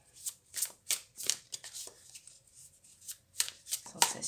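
A deck of cards being shuffled for a tarot-style card reading, with repeated crisp riffling bursts close to the microphone, separated by short pauses, and no talking.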